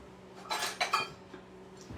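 Eggs and sugar for brownie batter are mixed in a bowl, with a few quiet clinks and scrapes of a utensil against the dish in a short burst, fairly faint.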